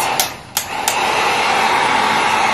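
A heat gun used for drying paint runs with a steady, loud blowing roar, preceded by a few sharp clicks as it is switched through its speeds.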